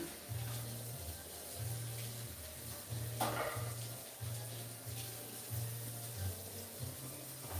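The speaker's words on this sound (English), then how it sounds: "I'll just do a quick rinse on these because we're using the same ingredients." Tap water runs steadily into a sink while mixing bowls are rinsed between cake batches, a continuous splashing wash with one brief louder splash partway through and no talking.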